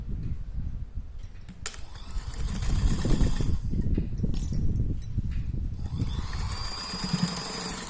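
A sewing machine runs a pressing stitch along the strips at the neck and armholes of a simple petticoat for a three-year-old girl, a steady mechanical whirr that keeps going for the full stretch, close and fairly loud, with no talking.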